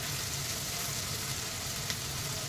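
Onions fry in a pan over a high flame, giving a dense, continuous sizzle that stays loud and steady throughout, with no speech.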